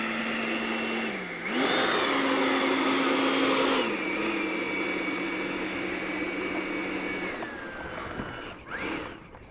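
A Freewing 90mm F22 RC jet on 8S power takes off, its electric ducted fan screaming in a loud, steady whine that rises in pitch and swells as it throttles up, then slowly fades as it climbs away.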